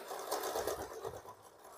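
A sewing machine stitches a blouse in a quick, even mechanical whir of needle strokes, close and steady, slowing slightly toward the end.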